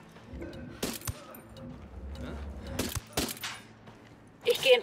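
Sniper rifle fire in Ghost Recon Wildlands, a couple of sharp, loud cracks amid game ambience and other broadband bursts, with a further noisy burst at the end.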